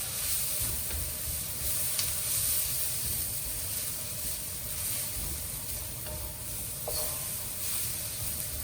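Garlic sizzles in a hot pan for char siu fried rice, a loud, close, continuous hiss with faint stirring scrapes throughout and no talking.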